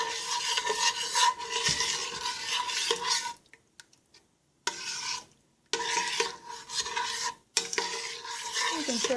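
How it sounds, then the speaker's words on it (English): A spoon stirs vegetable pot pie filling in a pan, close scraping and sizzling strokes in bursts broken by two brief near-silent pauses, with a few sharp clacks of the utensil against the pan. "Another little stir here."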